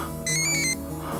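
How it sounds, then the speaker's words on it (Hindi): A mobile phone rings in a street alley with a bright, repeating electronic ringtone burst, fairly loud over a steady low background hum, then stops. "हाँ, यहाँ किसी फोन की आवाज आ रही है।"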